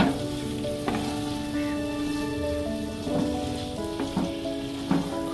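Potatoes sauté in a pan with a ground spice paste for alu dum, giving a steady close sizzle and crackle with a few sharper scraping or stirring knocks along the way.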